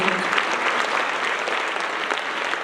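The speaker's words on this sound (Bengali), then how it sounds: "জোরদার হাতে তালি দেব" A church congregation claps loudly and steadily during a Bengali sermon, a dense sustained wash of applause filling the whole moment with no speech over it.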